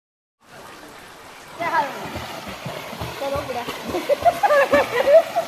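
Water splashes and sloshes as people swim in a village stream, among them an elderly woman of about sixty-five; the splashing starts softly and grows into busier, louder bursts near the end, with voices mixed in.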